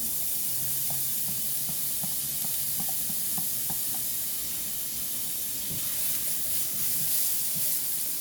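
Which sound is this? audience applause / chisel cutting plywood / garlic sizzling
garlic sizzling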